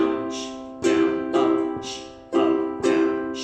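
A ukulele strummed in a steady repeating pattern, bright chords with short muted chucks between them, clear and close with no talking.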